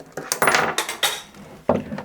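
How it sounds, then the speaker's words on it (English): Several objects clattering onto the floor while fitting out a tackle pod with a fish-finder transducer, a quick run of clanking, rattling knocks followed by a second clatter after a short pause. "knock everything on the floor unintentionally"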